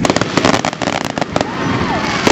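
Fourth of July fireworks at a picnic in the Philippines, a dense, continuous crackle of bursts and pops with a faint whistling streak, heard fairly close.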